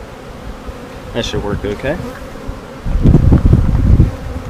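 Honey bees buzz around a beehive at close range, a steady insect drone rising louder in the second half while someone speaks briefly over it.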